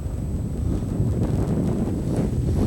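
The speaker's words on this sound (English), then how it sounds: "That wind is pushing us pretty good" Steady wind buffets a microphone in a boat out on Lake Diefenbaker while walleye fishing, a constant low rumbling roar that fills the whole stretch without a break.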